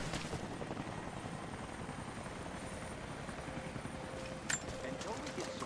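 Inside the Rise of the Tomb Raider video game, a helicopter comes in to land with a steady rotor thump and whine. Voices talk over it and a brief sharp impact comes near the end.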